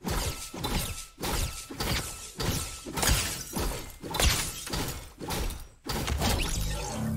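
Repeated sharp smashing hits of a pickaxe tool on opponents in a video game land in a steady rhythm, each a loud crunching impact with a shattering tail, close and continuous over a rumbling background.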